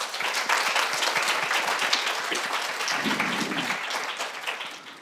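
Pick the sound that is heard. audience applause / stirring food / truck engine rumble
audience applause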